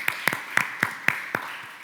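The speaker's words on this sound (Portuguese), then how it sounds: "uma salva de palmas para vocês" Audience applause at the close of a masterclass talk, six sharp separate claps spaced a few tenths of a second apart rather than a full crowd ovation, fairly close and moderately loud.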